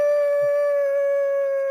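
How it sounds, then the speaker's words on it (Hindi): A single sustained dog howl, loud and close, holding one steady pitch with clear harmonics for nearly two seconds before easing off slightly. "तो अब कुत्ता बहू को आवाज लगा कैसे रहा है जी?"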